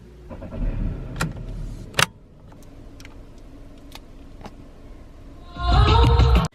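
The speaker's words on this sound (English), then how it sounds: "I'm actually going to drive home" A car interior with soft rumbling and a few sharp clicks and knocks, then an engine starts near the end, loud and close, running steadily for about a second.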